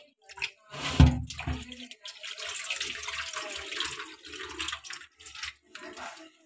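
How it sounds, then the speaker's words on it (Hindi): Potatoes washed under running tap water in a kitchen sink: splashing and trickling water in uneven bursts, with one sharper knock, close and fairly quiet, with no voice. "बस एक बार और वॉश करते हैं। हमारे आलू तो ऐसे साफ हो गए हैं"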